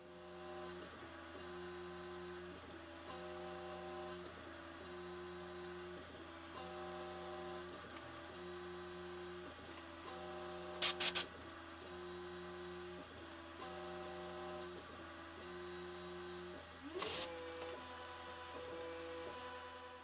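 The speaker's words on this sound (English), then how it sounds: "And now for the slotting operation." A Tormach CNC mill cuts a slot in a metal part, a quiet steady machine hum with stepped, repeating tonal changes as the cutter moves, plus a couple of brief sharp high bursts.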